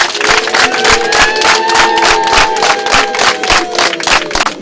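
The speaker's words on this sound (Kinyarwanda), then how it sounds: "nsabe abo twazanye n'amashyi menshi n'impundu" An audience claps in a dense, steady rhythm of applause mixed with high sustained ululating cries, loud and close throughout.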